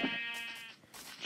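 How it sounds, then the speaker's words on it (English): A sheep in Minecraft bleats in one drawn-out, wavering call, close and clear, with a second short bleat following a brief dip. "There's a sheep."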